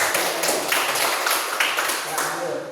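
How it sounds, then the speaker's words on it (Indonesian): Classroom applause for a student group: a dense, steady patter of many hands clapping together for a few seconds, fairly close and even in loudness, with faint voices mixed in. "Aplaus untuk kelompok."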